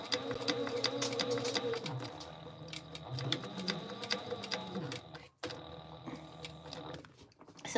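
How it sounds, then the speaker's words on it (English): A sewing machine runs steadily, stitching another line across a backpack seam with a fast rhythmic mechanical chatter, pausing briefly near the end before starting again. "I'm going to sew another line across here"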